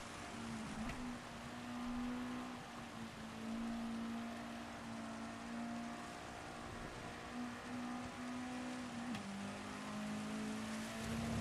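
Race car engine held against the rev limiter in Gran Turismo 7, a sustained high buzzing drone that stays nearly flat, with a slight pitch drop near the end, alone without talk.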